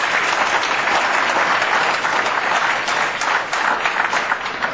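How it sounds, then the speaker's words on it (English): A crowd at an outdoor barbecue radio broadcast claps steadily, a dense, loud wash of applause that holds evenly from start to finish with no talk over it. "Let's give a round of applause to Back 40 for having us today."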